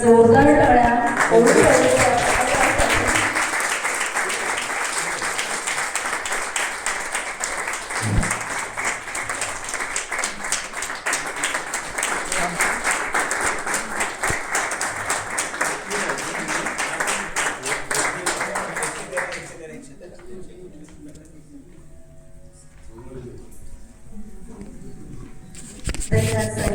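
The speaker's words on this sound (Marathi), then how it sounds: "एकदा जोरदार टाळ्या." A crowd at a solar power project inauguration claps loudly and steadily for about twenty seconds, dense and close, before it fades into quieter murmuring and scattered sounds.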